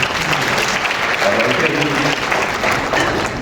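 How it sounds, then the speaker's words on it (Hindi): Applause at a Jharkhand political rally, with a large crowd clapping in a continuous, loud wash that stays steady across the whole stretch. "मेरी बात सच हो तो ताली बजाइएगा"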